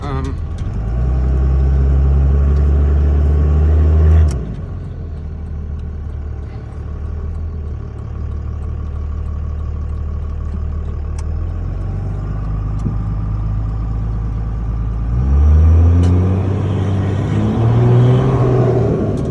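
A 2002 Ram 2500 pickup with the 5.9 Cummins diesel drives along, its engine droning steadily with rising revs as it pulls away at the start and again near the end, heard from inside the cab.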